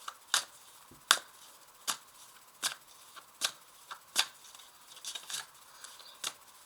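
Tarot cards being shuffled by hand, a series of crisp riffling snaps roughly every half second to second, close and fairly quiet, with no one speaking.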